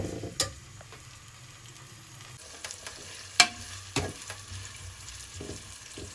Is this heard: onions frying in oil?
yes